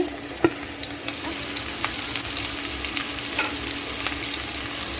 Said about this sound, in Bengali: এখন আমি এই ফুলকপি কেটে রাখা ডিম মটরশুঁটি গাজর দিয়ে দিচ্ছি